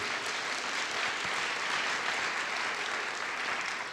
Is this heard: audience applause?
yes